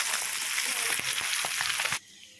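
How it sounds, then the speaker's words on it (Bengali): Pabda fish fries in hot oil for a Bengali home-style dish, giving a loud, steady crackling sizzle that runs unbroken for about two seconds before dropping away to quiet. "আর এদিকে পাবদা মাছ ফ্রাই হচ্ছে"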